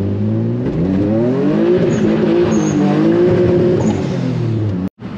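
Boosted Z car cruising at steady, moderate engine load, a loud continuous exhaust drone with gentle rises and falls in pitch from inside the cabin, cutting out abruptly just before the end.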